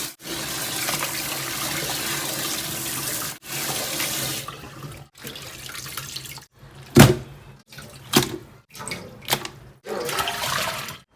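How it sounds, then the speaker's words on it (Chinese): Food being rinsed under a running kitchen tap: a steady gush of water, then short intermittent splashes and spurts as the flow is switched on and off. "我们再洗一下"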